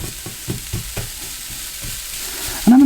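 Plant-based beef crumbles sizzle and are stirred in a pan, with soft rhythmic scraping taps over a low steady fry, ending in a louder burst of sizzling.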